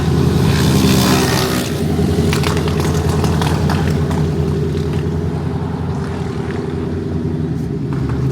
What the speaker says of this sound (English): let's give it a little rev start, or a remote rev. Little pops in there, it seems like.